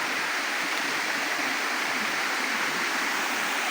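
Libtong Falls waterfall pouring steadily, a dense, continuous broadband rush of falling water, close and loud with no pauses and no voices.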